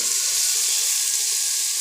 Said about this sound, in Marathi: आता मी त्याच्यात गाजराचे तुकडे जे पाण्यात भिजत घातले होते ना ते टाकून देते